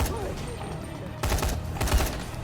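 Dying Light gunfire: loud, close shots that punch through in two clusters late on, over a busy game background with a voice talking underneath.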